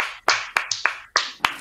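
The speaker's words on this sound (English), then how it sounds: "Is it weird if I clap for myself?" One person claps a handful of times, about six sharp, crisp slaps spaced irregularly, close and fairly quiet with nothing else around them.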